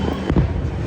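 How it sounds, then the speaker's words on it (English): Fireworks go off at night at Kings Island amusement park, with a couple of brief muffled bangs rising out of a steady outdoor background. "Fireworks are going off."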